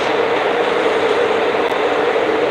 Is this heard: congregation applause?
no